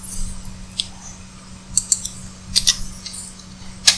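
Scattered keystrokes on a computer keyboard, sparse light clicks in small irregular bursts over a faint steady hum, no voices.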